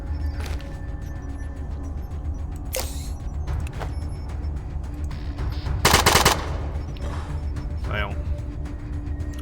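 Gunfire from the player's weapon in the video game Atom RPG, a few sharp bursts of shots over a low steady hum, the loudest burst around the middle, followed by softer mechanical clicks and creaks.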